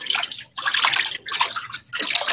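Pickled mustard greens rinsed and sloshed by hand in a basin of water, giving a loud, steady run of splashing and swishing with brief pauses and no talking.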